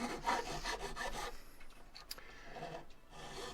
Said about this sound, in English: using a finer file, a less coarse file